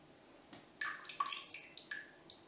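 Warm yeast dough mixture in a covered ceramic bowl gives off faint, sparse crackling pops and soft bubbling, close up and very quiet.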